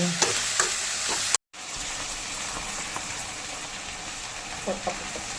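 Ivy gourd and okra sizzle and fry in a pan while being stirred, a steady close hiss with scraping stir sounds, briefly cut by a short gap of silence.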